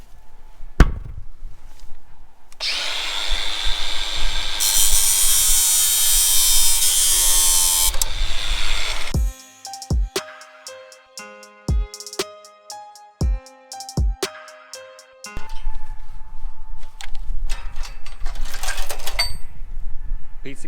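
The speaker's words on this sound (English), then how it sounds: "got my handy dandy battery operated grinder here." A battery-operated grinder whines loudly for several seconds while cutting old planter chains, then falls to short clanks and bursts before grinding again; someone talks briefly.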